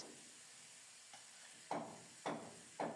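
Pumpkin fries in a pan under a faint steady sizzle, with a light tap and then three distinct scraping stirs spaced about half a second apart.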